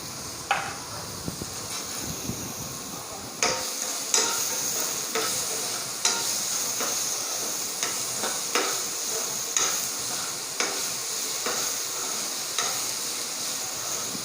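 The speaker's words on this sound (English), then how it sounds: "We will put 2 teaspoons of oil in it. Now we'll add the onion pieces." Onion pieces frying in a little oil in a pan, a constant bright sizzle broken by repeated knocks of a spoon stirring against the pan, close and loud, no speech.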